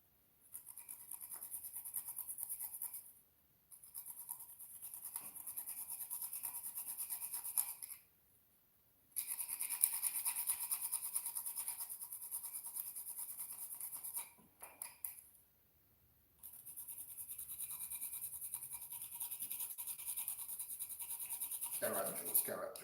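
Nutmeg rubbed against a hand grater for Jamaican carrot juice, a quiet scratchy hiss in several long bursts with short breaks, close up, and a voice speaking softly in places.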